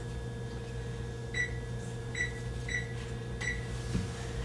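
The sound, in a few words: oven timer being set, beeping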